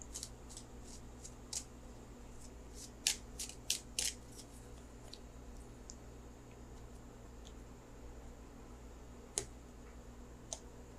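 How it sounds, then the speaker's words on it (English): Tarot cards being shuffled by hand, a scattered series of soft crisp clicks and flutters over a quiet low hum, with a brief cluster of quicker riffles partway through and no speech. "So let me shuffle for the outcome card."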